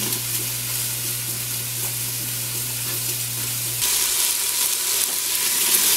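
Chopped squash sizzling and browning in the inner pot of an Instant Pot pressure cooker: a steady, close frying hiss with a low hum that cuts out partway, after which the sizzle grows brighter.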